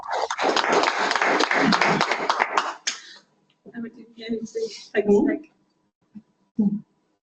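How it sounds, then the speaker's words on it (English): Audience applause after a presentation, a dense burst of clapping for about three seconds that ends abruptly, followed by a few scattered sounds and some brief speech. "we interrupted him with our applause"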